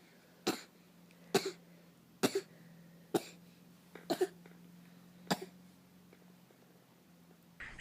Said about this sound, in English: she just like learned how to fake cough and she coughs all the time.